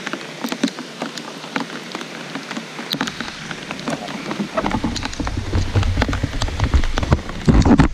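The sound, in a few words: heavy downpour of rain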